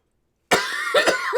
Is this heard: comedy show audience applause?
no